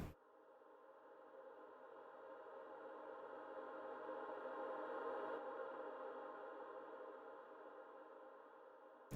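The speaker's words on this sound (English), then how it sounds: "I put a huge reverb on the piano, and then I played it, reversed it, and then I added another huge reverb so that it gives me a swell" A reversed piano soaked in huge reverb swells slowly from faint to fuller, a smeared, washy tone that builds through the middle and then ebbs away, heard alone and quietly.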